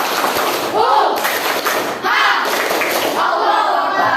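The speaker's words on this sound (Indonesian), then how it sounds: "Kita kasih tepuk dulu lah. Tepuk semangat." A classroom of students claps the rhythmic 'tepuk semangat' cheer, a series of loud patterned claps in bursts, with children's voices chanting along.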